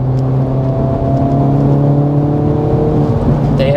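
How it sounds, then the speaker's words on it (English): Exhaust note of a 2024 Acura Integra Type S sport sedan while driving, a steady, loud engine drone with layered harmonics held throughout, rising slightly near the end. "They have done a lot of work with the exhaust system to make it, you know, very expressive."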